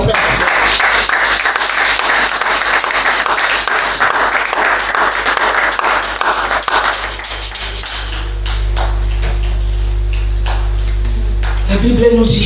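A church congregation at a French-language worship service applauds in praise. The clapping is dense and continuous and runs loud for several seconds before giving way to a sustained organ-like tone.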